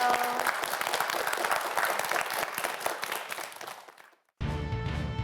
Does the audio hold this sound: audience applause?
yes